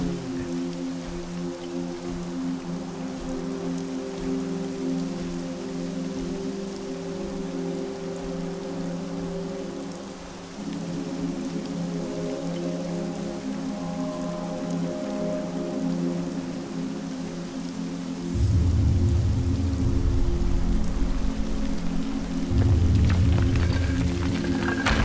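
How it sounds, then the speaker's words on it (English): Steady rain falling in the video game Castlevania Lords of Shadow, a continuous wash of hiss with low droning tones underneath and a deeper rumbling layer swelling in toward the end. "It's raining."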